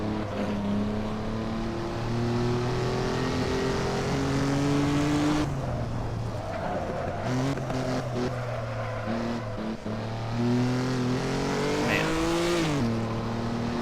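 A 1950s Formula 1 race car engine in Assetto Corsa at Zandvoort drones with a rich harmonic buzz, holding steady revs, then dipping and rising through gear changes and corners, loud and continuous throughout.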